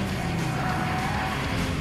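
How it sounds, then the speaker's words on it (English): A stock Toyota FRS lapping a race track, its engine roaring steadily with a continuous rushing tire and wind noise up close. "run 5 laps on the track in the stock FRS"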